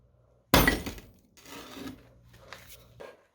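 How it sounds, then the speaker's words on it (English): A hammer flattens a metal edge on an anvil: one loud, sharp metallic strike followed by a few lighter scraping and tapping sounds, close and alone. "I need to flatten out that edge right there. So I'm going to break out my handy anvil."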